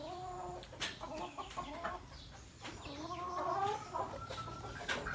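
Breeder hens and roosters, including asil crosses and sweater-line birds, cluck repeatedly at close range on a rainy mountain farm, with rising and falling calls overlapping through a steady background of rain and wind.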